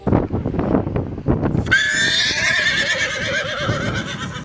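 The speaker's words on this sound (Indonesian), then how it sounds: "Wah, ternyata ini hewan kuda." A toy horse's high, trembling whinny rings out loud and close for nearly three seconds, following a brief stretch of voice-like sound and fading at the end.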